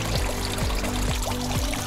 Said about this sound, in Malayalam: ബെഡിൽ നിന്നും വെള്ളം താഴെ കൊടുത്തിരിക്കുന്ന പൈപ്പിലൂടെ പോണ്ടിലേക്ക് തന്നെ തിരിച്ച് ചാടുന്നുണ്ട്